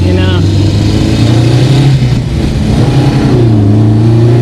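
A 1970s Volvo hearse engine hums steadily while driving, a loud close low drone with slight shifts in pitch as it pulls along, with a voice talking over it.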